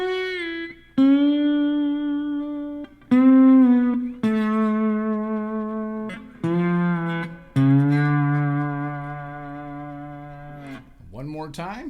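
Slide guitar lick played on the 4th and 5th strings, with smooth gliding, sustained notes sliding between pitches, a few accented attacks and a short wobbly run at the end.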